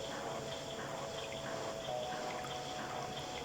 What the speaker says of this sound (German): das rote Wasser fließen lassen